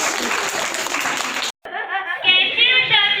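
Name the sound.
audience applause at a Christmas puppet show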